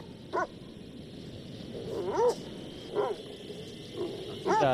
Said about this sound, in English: Where'd the dog come from?